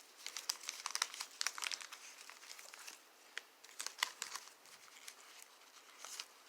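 Plastic packaging for doll clothes being crinkled and pulled open up close, a busy run of irregular crackles and rustles with brief pauses.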